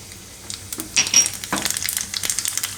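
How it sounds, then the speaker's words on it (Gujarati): Kalonji seeds dropped into hot oil crackle and sizzle in a burst of sharp pops, close and fairly loud, with scattered clinks and stirring sounds. "તો તેલ આપણું ગરમ થઈ ગયું છે. તેમાં આપણે આ નાખશું કલોંજી."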